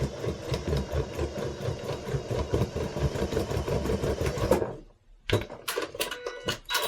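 A sewing machine stitches binding onto a quilt in a fast, steady run of rapid needle strokes, stopping abruptly near the end before a few short mechanical clicks and bursts.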